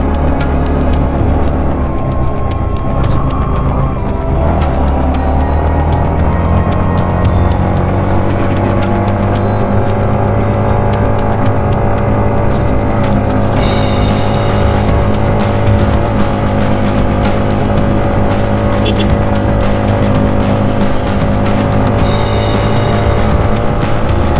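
A motorbike labours up a very steep hill road in Bandarban in low gear, its engine a loud, continuous strained drone whose pitch wavers and climbs, with a few faint high chirps over it.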